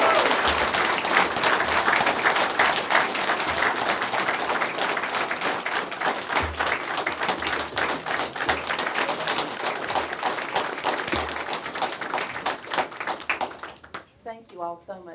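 Attendees at a county board of supervisors meeting clap after a resolution passes, a loud, dense round of applause that holds for about fourteen seconds before thinning out as a voice begins speaking.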